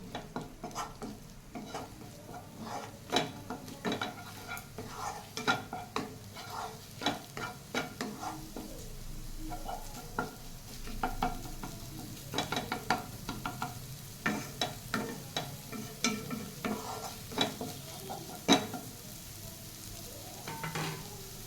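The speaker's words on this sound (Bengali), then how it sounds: "এবার আমি আবার গ্যাসটা অন করে এটা হালকা একটু ফ্রাই করে নেব।" Egg chilli frying lightly in a pan, with a steady sizzle and repeated stirring scrapes and clinks of a utensil against the pan, close and fairly quiet throughout.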